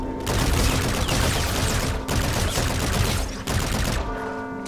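Sustained automatic gunfire in Call of Duty: Infinite Warfare, a loud, near, continuous rattle of shots broken by a few brief gaps.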